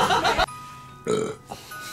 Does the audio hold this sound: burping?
yes